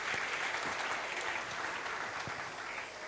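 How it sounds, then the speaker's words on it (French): Brief, steady applause from a comedy show audience, a dense wash of clapping that holds at an even level throughout without speech. "faut applaudir pour vous"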